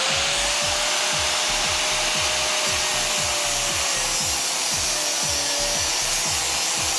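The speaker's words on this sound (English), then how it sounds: "Put your fingers in here and pry it up and cut the seam again." An interior panel seam on an old VW bus is pried up and cut: rapid, regular rasping strokes repeat close by under a thin, steady whine, with no talking.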